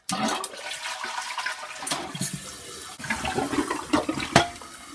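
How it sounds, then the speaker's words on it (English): A toilet flushes after a tank repair with the lid off, water rushing loudly out of the bowl and gurgling as the tank begins to refill, steady and close with no talk. "press the handle to test it and make sure that it flushes"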